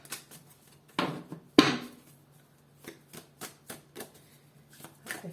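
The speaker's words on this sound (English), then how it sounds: "I feel the urge to shuffle them really well." A deck of tarot cards is shuffled in a quiet room, giving a few sharp riffles and slaps followed by a series of softer, rhythmic card flicks, close to the microphone.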